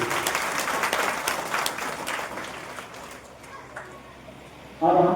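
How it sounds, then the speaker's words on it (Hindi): Applause from a crowd at a village religious procession event, brisk clapping that is loud at first and gradually thins out, followed by a brief burst of speech at the end. "जोरदार ताली बजाइए।"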